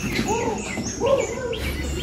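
Birds chirp and tweet close by, overlapping calls against a busy outdoor background.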